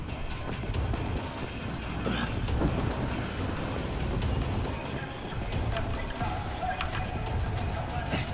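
A thunderstorm in Wolfenstein: The New Order brings dense rain hiss and low rumbling throughout, with scattered crackles. It sounds loud and steady, and there is a faint hint of voice underneath.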